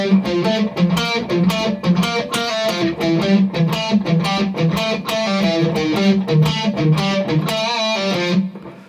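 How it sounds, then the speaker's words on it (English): An electric guitar with distortion plays the main riff of a song, a tight, repeating, rhythmically chugging figure of clear, loud picked notes with no talking, ending with a brief ringing note. "I've put a bit of distortion on my guitar now."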